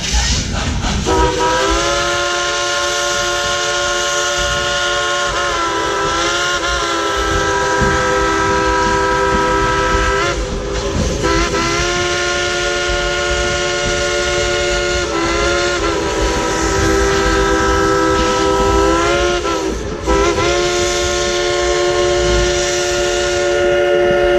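The Dollywood Express steam locomotive sounds its whistle in a long, loud, sustained chord. The blast swells and dips several times over more than twenty seconds, with a rumbling train and crowd noise beneath.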